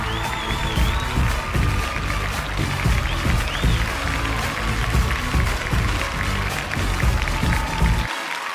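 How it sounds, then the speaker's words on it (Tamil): A large awards-ceremony audience at the 9th Annual Vijay Television Awards gives sustained, even clapping with light cheering, continuous and fairly loud over faint background music, cutting off abruptly at the end. "ஒரு மிகப்பெரிய கைத்தட்டல் கொடுத்துடலாம்."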